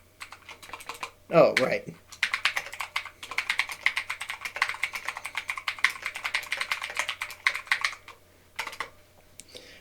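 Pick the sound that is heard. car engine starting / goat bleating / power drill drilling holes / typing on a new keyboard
typing on a new keyboard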